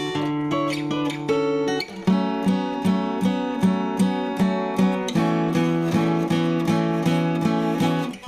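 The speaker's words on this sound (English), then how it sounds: "I just put some chorus on the whole mix." A song's intro is played on guitar with a chorus effect across the whole mix: a clear, steady run of ringing picked notes that repeats in an even rhythm, with no voices over it.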